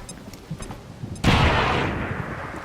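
A grenade detonates in XCOM 2: War of the Chosen on Legend difficulty. After quiet game ambience, a sudden loud, broad blast hits and then rumbles and slowly fades over a couple of seconds.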